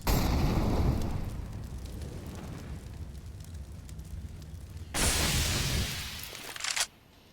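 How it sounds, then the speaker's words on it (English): A flashbang grenade goes off in CS:GO: a loud, hissing burst at the start fades into a sustained roar, then a second sharp, bright blast hangs for about two seconds and cuts off abruptly. "Flashbang's over."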